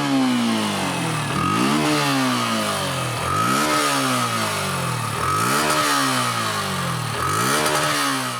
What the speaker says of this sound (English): both these motorcycles have a bassy exhaust note, but the one on the FZ is slightly bassier.